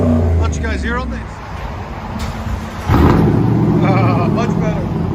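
A Dodge Dakota SLT with a 4.7L V8 and an aftermarket exhaust, either a Flowmaster Super 10 or a straight pipe, rumbles at idle close by, then revs into a louder, deeper roar, with voices talking over it.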